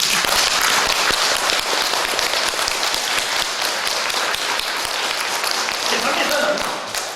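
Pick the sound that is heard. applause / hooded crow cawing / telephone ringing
applause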